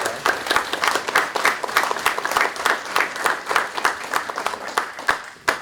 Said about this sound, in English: I think we should give a round of applause to every first responder that was there